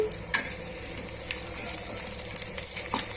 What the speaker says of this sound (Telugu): ఇదంతా కూడా బాగా మిక్స్ చేసుకొని వేగనివ్వాలండి